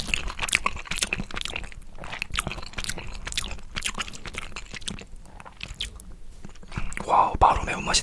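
Someone eating spicy black bean Buldak fire noodles up close, with wet slurps, chewing and smacking in irregular bursts, soft and intimate, ending in louder mouth noises.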